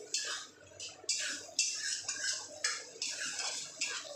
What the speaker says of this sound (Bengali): এটা ফুটছে